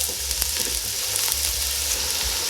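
Steady, dense sizzling of hot oil in a pan, loud and close, a continuous crackling hiss with no voices.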